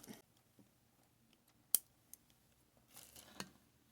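Scissors snip through crochet yarn while making a small doily for a tiny tree skirt. One sharp, close cut stands out against quiet handling noise, with a few softer clicks and rustles later.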